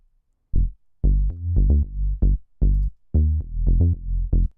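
A deep, punchy electronic synth bass plays a short choppy future funk riff of staccato notes, alone and fairly loud with brief gaps between phrases.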